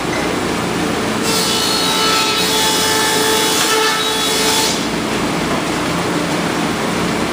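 Planer surfacing the face of a wood board, a loud, steady machine roar with a harsher cutting rasp that swells for a few seconds in the middle, close and without talking.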